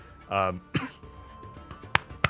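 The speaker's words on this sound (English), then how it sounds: "still coughing" A person coughs: one strong, husky cough near the start, followed by a couple of short, sharp coughs and throat clears, close to the microphone with quiet pauses between them.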